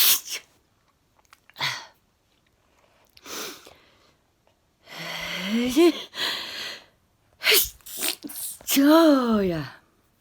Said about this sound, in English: Just started sneezing.